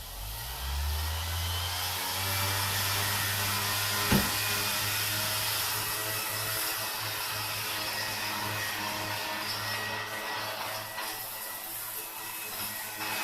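A sander with a hook and loop pad polishing tile at low speed, a steady close motor drone with a low hum running unbroken throughout and one brief knock.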